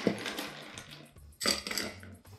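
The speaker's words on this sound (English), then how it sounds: "First of all, fill your glass with ice." Ice cubes clatter and clink into a glass in two bursts, a short rattle then a louder tumbling cascade, close and crisp.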